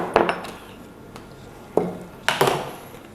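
A utensil clanks and scrapes against a pan while spice paste is stir-fried for beef soto tangkar, with several sharp, close metallic knocks separated by short pauses.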